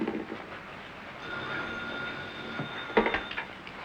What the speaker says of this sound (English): I'm at Grand Central, Queenie.